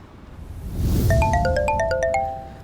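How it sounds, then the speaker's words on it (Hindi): A phone in a Hindi crime audio drama rings with a short run of bright, stepped electronic tones that rise over a low rumble, loud and close, with no talking. "उसका फोन फिर से बजने लगा"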